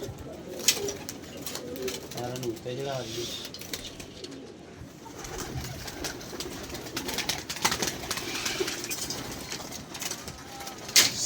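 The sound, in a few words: pigeons cooing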